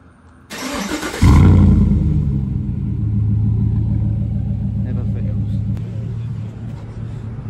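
A car engine cranks and catches, then settles into a loud, steady low rumble that runs to the end, with a broad burst of noise just before it starts.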